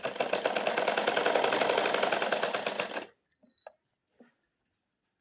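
A sewing machine stitches a plain blouse in a fast, steady run of close mechanical clatter for about three seconds, then stops, followed by a few small clicks and handling sounds.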